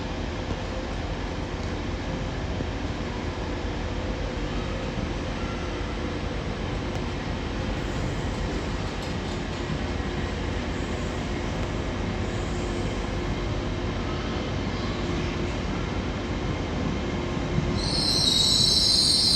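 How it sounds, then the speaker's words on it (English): A Class 802 TransPennine Express train runs into Manchester Victoria with a steady, loud rumble of wheels on rail. Faint squeals carry through, and a hiss rises near the end as it comes in. "Now arriving in is going to be the 1433 Transpennine Express service to Hull from Liverpool Lime Street with another Class 802"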